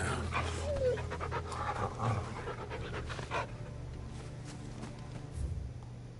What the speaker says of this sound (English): No match for you, eh, Torgal? What a fine hound.